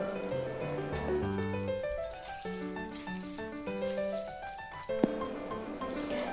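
Paneer pieces frying in hot oil, a steady close sizzle under a running musical tune, with a single sharp clink near the end and no speech.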